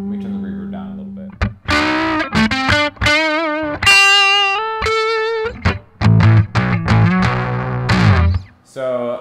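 Electric guitar played through a Supro Delta King 10 small amp with the drive switched on, loud distorted chords and ringing single notes, with short pauses between phrases and no voice over the playing.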